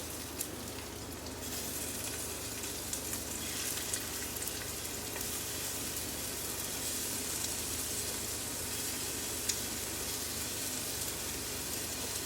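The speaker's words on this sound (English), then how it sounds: "We're just going to drop these meatballs in here." Meatballs fry in olive oil in a pan, giving a steady soft sizzle and faint crackle that runs throughout, fairly quiet and close, with no talking.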